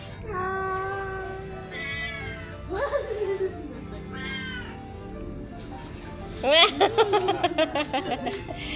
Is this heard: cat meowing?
yes